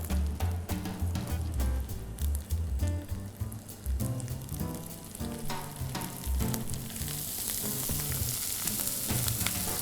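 Potatoes fry in a little hot fat in a pan, heard as a steady, close sizzle and spatter over a low rhythmic background hum, with no talking.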